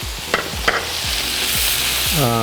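Shrimp going into a hot pan with garlic, a steady sizzle broken by two sharp utensil clinks early on, then continuing frying noise.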